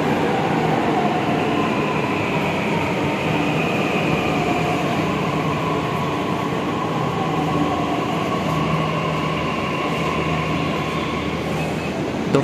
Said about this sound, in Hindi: तो फाइनली ये आ गई अपनी मेट्रो